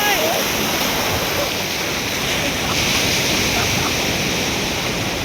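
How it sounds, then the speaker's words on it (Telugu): Sea waves surge and wash continuously onto Nellore beach, a loud, steady roar of surf filling the whole scene with no pause. "అలలు మాత్రం సూపర్గా ఉన్నాయి"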